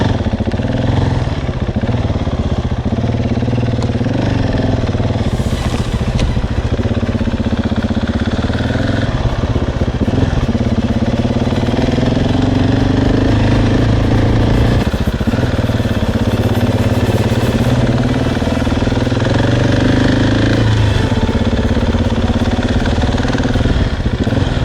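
A motorcycle engine drones loud and steady throughout a ride on a route toward a water crossing, its mid-pitched hum rising and falling slightly with throttle, accompanied by wind and occasional clatter.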